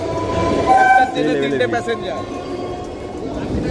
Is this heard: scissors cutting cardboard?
no